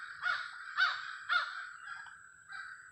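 Crows caw in the woods during deer season in Ohio, three loud harsh calls in quick succession followed by several softer, fading caws, with no one talking.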